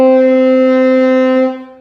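A single sustained French horn note played half stopped by hand, reedy and slightly nasal, held steadily before tapering off at the end.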